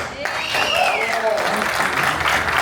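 Clapping from an audience runs throughout, fairly loud and steady, while a voice speaks or calls out over it near the start.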